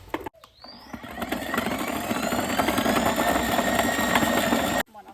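A small fruit-cutting machine cutting tomato whirs steadily for several seconds with a buzzing motor tone and faint vibration, then cuts off abruptly.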